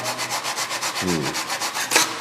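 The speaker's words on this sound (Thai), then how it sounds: "เอาไม้ตัวนี้ไว้พิงไว้เออ จะเลื่อยนี่นิดนึง ขอเลื่อยแรงก็ไม่ได้นะเดี๋ยวเดี๋ยวหักเดี๋ยวแตกนะครับ" Hand saw cutting gently through thin wood for guitar sides, a steady rhythm of about fifteen quick, even rasping strokes, close and moderately loud, with a brief tonal squeak near the middle and no talking.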